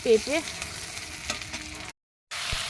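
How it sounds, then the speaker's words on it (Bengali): Onions fry in hot oil with a continuous soft sizzle, briefly cut off by a short silence before resuming; a couple of faint tonal chirps sound at the start. "তেলের উপরে পেঁয়াজ দিয়ে দিয়েছি, পেঁয়াজটা লাল লাল হয়ে যাবে"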